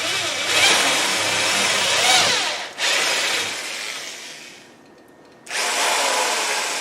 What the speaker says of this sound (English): I'm going to drill a hole through both of them.